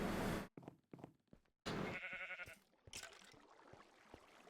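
Sheep on a small farm in the modded Minecraft pack Agrarian Skies let out several short bleats close by, with quiet pauses between them and faint game sounds beneath.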